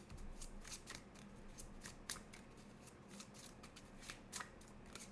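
Tarot cards are shuffled and drawn by hand during a full moon reading, a continuous close rustle of card edges with quick flicking bursts and no talk.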